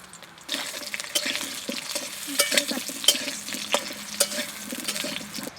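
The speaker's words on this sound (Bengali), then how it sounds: "আমি এবার তেলটা দিয়ে দেবো, দিয়ে আলুগুলো ভেজে নেব" Potatoes frying in hot oil in a pan while a Bengali aloo paratha and chicken meal is cooked, a steady sizzle with repeated stirring scrapes and clinks, close and fairly loud, with no talking.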